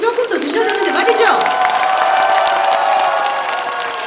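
Year-end concert crowd applauds and cheers for a singer, with loud clapping, whoops and shouts in a lively burst, some high voices rising above the noise.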